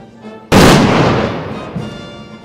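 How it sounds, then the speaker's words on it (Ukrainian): A single sharp small-arms salute shot at a Victory Day ceremony in Odesa cracks loudly and rings out into a long fading echo, preceded by faint background noise. "Церемонія відкриття супроводжувалася покладанням квітів до стіни героїв та салютом зі стрілецької зброї."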